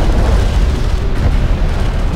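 A light attack vehicle blowing up in the real-time strategy game Deserts of Kharak, heard as a dense, sustained rumbling boom with heavy low end that stays loud across the whole moment.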